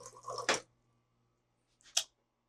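Two short bursts of water dispensing from a Waterdrop Y1CH filter dispenser, a brief trickle and splash followed after a pause by a second quick squirt, close and quiet.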